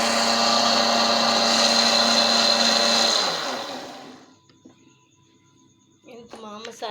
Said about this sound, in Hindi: तभी मैं आपके सामने ये तमाम मसाले जो हैं वो ग्राइंड करूँगी